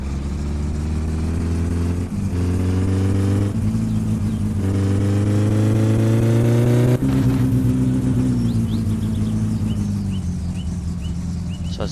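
A car engine idles and revs repeatedly, pitch rising and dropping in steady loud surges, with a faint synthetic quality and no voices, in the video game My Summer Car.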